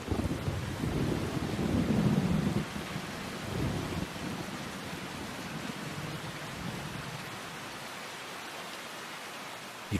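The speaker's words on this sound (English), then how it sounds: "Rain sweeps in and brings mist with it." Steady rain with rumbling thunder sweeps through a forest as mist rolls in, a dense continuous wash with low rolls early on, loud and without speech.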